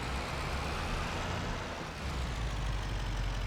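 Heavy BNSF freight train rumbling past in Farming Simulator 25, a steady loud low-pitched drone that holds evenly throughout with no voices.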